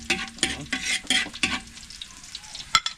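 Onions being sautéed in a pan while cooking a big batch of pancit miki for a merienda: loud clattering stirring strokes over a steady sizzle, fading to a quieter fry with one sharp knock near the end.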